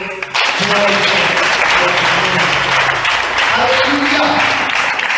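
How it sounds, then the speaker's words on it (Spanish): A church congregation breaks into loud, sustained applause that fills the room, with a voice calling out over the clapping. "En ese aplauso."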